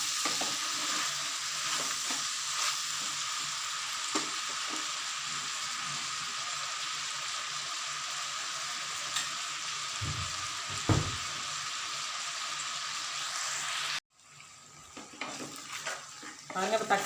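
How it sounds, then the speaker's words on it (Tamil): Tomatoes sautéing in a pan for a country chicken curry give a steady, loud sizzle with occasional stirring scrapes, then the frying drops quieter near the end. "தக்காளி நல்லா வதங்கட்டும்."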